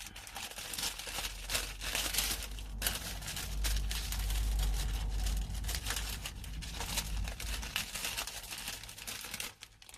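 Paper wrapper being folded into a bag shape for a beeswax candle, close crinkling and rustling that crackles continuously in quick irregular bursts throughout.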